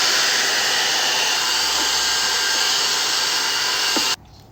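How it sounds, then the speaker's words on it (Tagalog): Hair dryer blowing on hair, a loud steady roaring whoosh that runs continuously and then cuts off abruptly near the end. "Blower na natin yung hair natin."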